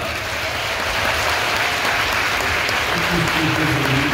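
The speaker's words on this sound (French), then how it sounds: "Alors, pour les champions romains et gaulois, on applaudit bien fort." A large audience at a Parc Astérix live show, Gaulois Romains le match, applauds the Roman and Gaulish champions with steady, dense clapping that stays loud and even for the whole stretch.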